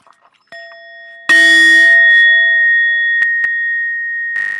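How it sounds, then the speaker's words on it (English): A single meditation bell is struck once before group chanting, ringing out loud and close with a bright onset, then sustaining a long steady shimmering tone that slowly decays, with a few faint knocks and movement around it. "Susan, would you give us one bell, please?"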